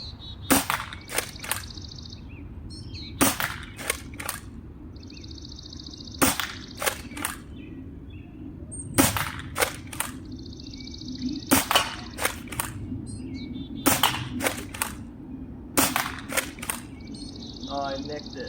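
Nerf Nexus Pro X blaster firing at about 26 feet, heard as sharp snapping shots in quick pairs and bursts, each followed by a short whirring hum, repeating about five times through the stretch.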